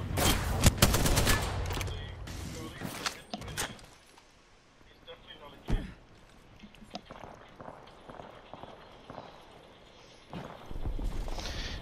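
Rapid automatic gunfire from the shooter game Apex Legends, with sharp bursts crowded together at the start and then sporadic single shots and shorter volleys, while a player talks over the action.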